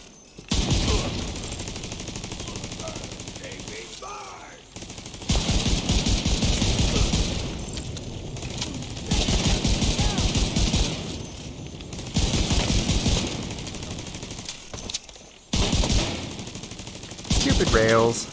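Sustained automatic gunfire from a deployed turret and weapons in The Division 2 comes in long, loud rattling bursts with brief pauses between them, and a voice talks over parts of the firing.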